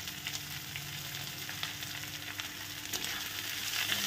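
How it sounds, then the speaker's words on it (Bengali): Moringa leaves softened in baking soda are sautéed with onion and turmeric in hot oil for a lentil dal, giving a steady, close sizzle with light stirring and faint clinks. No one speaks. "তেলের মধ্যে এটাকে একটু সাঁতলে নিতে হবে।"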